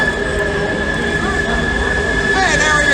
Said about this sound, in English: you are going to hear a lot of trains